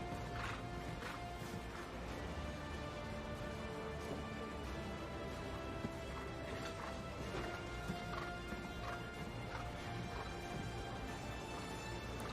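Horse hooves canter across a dressage arena at a championship for young horses, a steady three-beat rhythmic thudding, moderately distant, under a faint hum.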